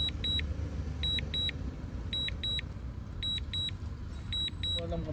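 A car key fob beeps in repeated high double chirps, four pairs in steady rhythm, faint over a continuous low rumble of outdoor background noise.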